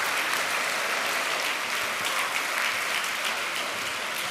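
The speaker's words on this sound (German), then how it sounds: "Applaus, Meiter Nadi." Steady, thick applause from an audience honoring a retiring colleague, continuous and even in level from start to finish with no voices standing out.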